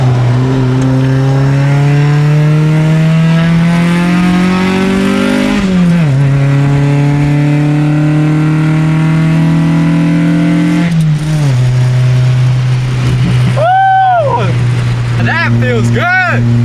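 A car with a Hybrid Racing short shifter revs hard and climbs through the gears, its engine pitch rising and then dropping at each of two clear shifts before a voice exclaims near the end.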